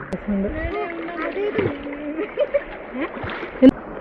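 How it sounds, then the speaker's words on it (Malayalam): A speedboat passes over the sea with splashing and churning, under nearby voices talking. "സ്പീഡ് ബോട്ട് പോകുന്നു"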